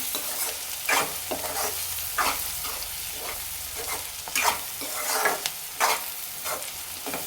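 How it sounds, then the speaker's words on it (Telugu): Turmeric being stirred into hot oil in a pan, a spoon scraping in quick repeated strokes over a steady close sizzle, with no talking. "ఒక టీ స్పూన్ పసుపు అయితే వేసుకుంటున్నాను దీన్ని కూడా మంచిగా కలుపుకోవాలి ఆయిల్లో"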